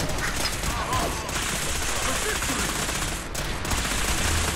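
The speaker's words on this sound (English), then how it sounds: "He has a laser Gatling gun." A laser Gatling gun in Fallout 4 firing in a steady, rapid stream for several seconds, loud and continuous with a brief dip partway through, with game voices mixed in.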